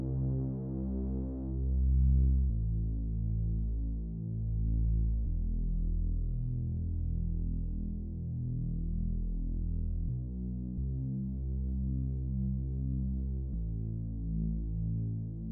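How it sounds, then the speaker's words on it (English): A synth bass made in Serum with a low-pass filter cutting its high end, a deep throbbing low drone that shifts pitch between sustained notes, dark and smooth with no voices over it. "So we clear that high end on the bass, right?"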